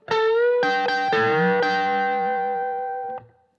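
An electric guitar played through a Dusky amp run hard into an attenuator plays a short sustained lick with bends, warm and slightly driven, ringing out before stopping.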